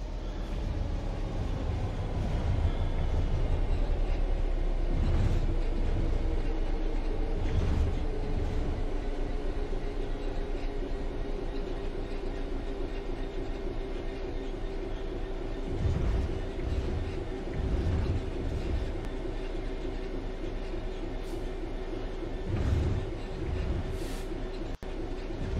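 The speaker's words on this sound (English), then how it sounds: "The train will then coast on level ground, and the train will only slow down very gradually." A train in Train Sim World 3 coasts on level ground with a steady low rumble and gradually falling tonal whine, punctuated by periodic soft thumps of wheels over rail joints, moderately loud and continuous.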